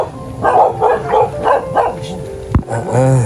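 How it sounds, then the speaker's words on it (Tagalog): Several dogs bark repeatedly close by in a quick, overlapping series, with a few yips and whines mixed in. "Daming aso"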